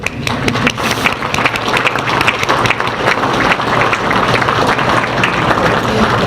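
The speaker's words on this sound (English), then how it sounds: "You want to stand for us so we can give you a round of applause?" Sustained audience applause fills a hall at a Long Island economic summit, a dense, loud wash of many hands clapping steadily for students, with faint voices mixed in.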